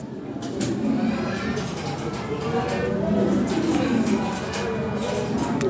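Fancy pigeons at a bustling pigeon market near Lahore, their low continuous cooing and rolling burbles running throughout beneath general crowd murmur and nearby talking.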